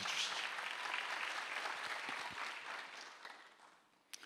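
A church congregation applauds during a Sunday worship service, a dense, steady wash of many hands clapping that holds for several seconds and then thins out toward the end, with a couple of sharper claps at the close.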